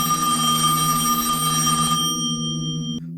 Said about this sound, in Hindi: एक रात सौरव के फोन में अमन का कॉल आता है।